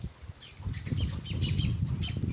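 Sparrows fluttering and flapping their wings while pecking at scattered rice, a steady busy flurry of soft wingbeats close by with faint chirps over a low background rumble.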